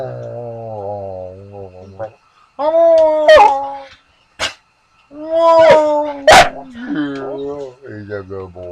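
A pet dog, called a bear dog, howls and yips in drawn-out rising and falling tones, several vocal bursts close to the microphone with short pauses between them.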